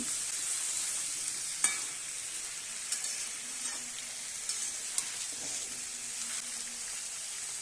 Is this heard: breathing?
no